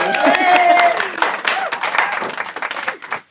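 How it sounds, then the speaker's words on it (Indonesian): Clapping in a children's podcast studio: a short round of hands clapping, mixed with overlapping voices and a brief musical tone at the start, tapering off after about three seconds. "tepuk tangan lagi"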